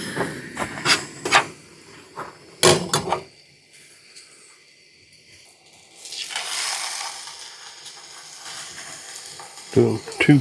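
Two pork chops fry in a pan with plenty of butter at a riverside campsite. A bright sizzle swells in the middle, with sharp clanks and scrapes of utensils against the pan before and after.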